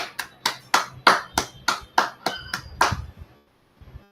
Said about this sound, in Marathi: सगळ्यांनी टाळ्या वाजवा.